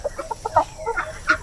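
Chickens clucking in short, uneven bursts, several calls close together and fairly near, one louder squawk near the end, with no talking.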